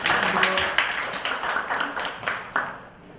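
An audience at an indoor policy forum on housing design gives a round of applause: dense, fairly quiet clapping that carries on for a few seconds and then tapers off.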